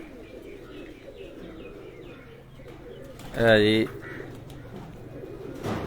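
Pigeons coo at a home loft, one clear cooing call standing out briefly while someone talks nearby and other soft bird sounds chirp in the background.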